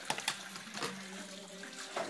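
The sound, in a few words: tap water running into a shaker for a protein shake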